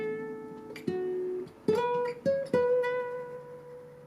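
Clean guitar lick in a country song intro, with big slides up the third string and picked notes, a handful of distinct attacks with gliding pitch rises, fairly quiet and close with nothing else heard.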